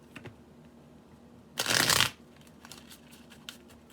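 A tarot deck riffled once for about half a second, a crisp fluttering burst amid quiet room noise and small handling taps.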